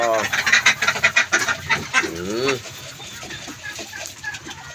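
On a duck farm, a flock of ducks quacks in a noisy, overlapping chorus at close range during feeding. A person talks partway through.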